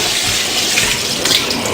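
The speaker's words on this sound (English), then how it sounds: "what we're going to do is we're going to rinse it under cold water" Cold tap water runs steadily over a raw whole turkey, a continuous close splashing gush with no voices.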